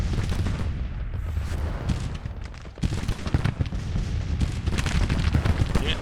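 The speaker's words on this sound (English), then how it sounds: "We have probably been receiving end of artillery strikes." Dense, continuous rumbling of artillery and gunfire in a Civil War strategy game battle, booming heavily throughout with a brief dip before the barrage surges back.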